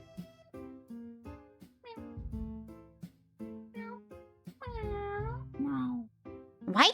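Several cats meow one after another in a video game, each call different in pitch and tone, some short and some drawn out and grumpy, with someone talking between and over them.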